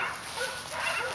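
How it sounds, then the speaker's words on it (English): Six-week-old boxer puppies, a brindle male and a fawn female, yip and bark in a dense, continuous stretch of noise, loud and close. "these two are the boxer puppies from Zoey and Tonka's nursery"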